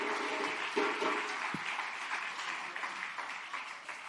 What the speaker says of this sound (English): Please give a round of applause for Ariane Simone Reed